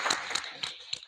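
Audience clapping at a Friends of Figma event in Lisbon, a short burst of scattered handclaps that trails off within about a second.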